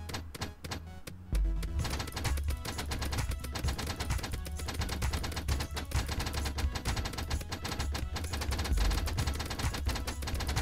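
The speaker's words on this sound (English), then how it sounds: "Dude, explosions are so good." Rapid explosions in the tower defence game Idle Tower Defence, a dense barrage of sharp bangs and thuds that fires continuously after a brief sparse start.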